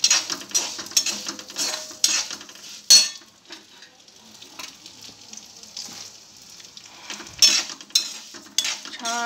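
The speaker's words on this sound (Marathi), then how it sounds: "आता शेवया घालायच्या मैत्रिणींनो ह्याच्यात आणि सोते करून घ्यायच्या" Vermicelli roasting in ghee in a pan, stirred with a utensil: light sizzling under repeated scraping and clinking of a spoon against the pan, in bursts through the whole stretch, close and fairly loud.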